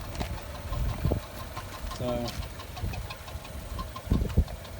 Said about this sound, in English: the engine sounds terrible. Sounds like it's got a miss.